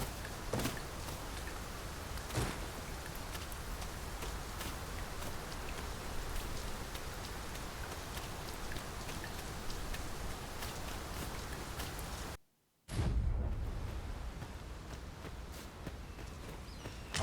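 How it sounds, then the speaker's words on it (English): Steady rain falls in Dragon's Dogma 2, a dense continuous hiss with faint footsteps or hoofbeats mixed in, cutting out briefly before resuming just as heavy. "Mind the rain, Master."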